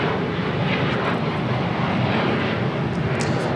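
An Airbus A330-200 taking off at LAX gives a loud, continuous jet engine roar, close and steady throughout with no voices.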